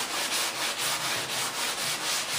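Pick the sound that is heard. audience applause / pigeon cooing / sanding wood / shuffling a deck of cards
sanding wood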